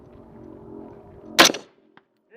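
A single loud, sharp tactical rifle shot fired toward a 200-yard target rings out once, then decays quickly into quiet, with faint activity before it.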